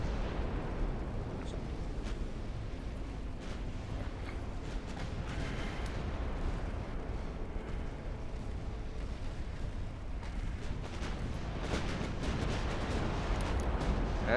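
Warship artillery fire in the naval strategy game Ultimate Admiral Dreadnoughts: a continuous dense rumble of distant and mid-range gun booms and bursts, rolling without pause and fairly loud throughout.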